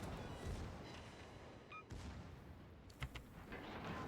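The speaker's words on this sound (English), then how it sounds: "now there's 3 ships shooting at me" Space combat in the game Star Citizen, with several ships firing on the player: a steady rumbling roar carries dull booming impacts and a few sharper bursts, loud and close, with no talk.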